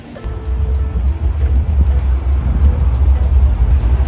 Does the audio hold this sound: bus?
yes